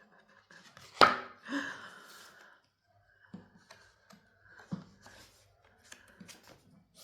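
Stiff, heavy art journal pages being flipped make a sharp papery snap followed by softer rustles and light ticks, close and quiet, with a few faint breaths or murmurs between turns.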